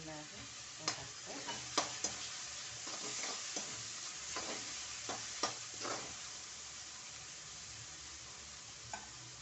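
Chopped tomato dropping into a hot pan for a drumstick and mixed vegetable curry, a steady broadband sizzle with a string of sharp spatula scrapes and taps spread through, moderately quiet and with no talking.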